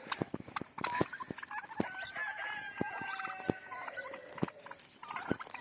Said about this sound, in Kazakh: Күрке тауықтар үркіп тұр.